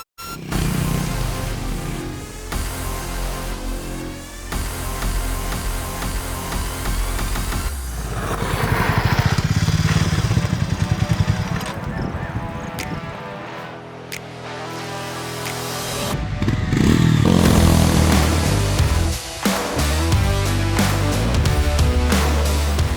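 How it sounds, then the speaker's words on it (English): A Harley-Davidson X440 road bike ridden over rocky off-road terrain: its single-cylinder engine revs and labours loudly up close, rising and falling with throttle bursts, brief drops as it climbs and jumps, then surging again. "riding this 440 for 2 hours is quite interesting in this kind of a terrain"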